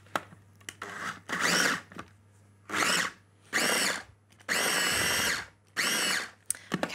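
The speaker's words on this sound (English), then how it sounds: "now I'm going to start pulsing this until this meat starts to shred" Food processor pulsing cooked duck meat for oriental croquettes, shredding it in several loud whirring bursts of about a second each, separated by short pauses, with a steady low hum underneath.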